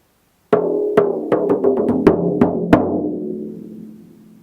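A drum rhythm pattern with a glissando effect: a string of sharp, resonant hits at uneven spacing, each ringing into a sliding, sustained tone that fades slowly at the end.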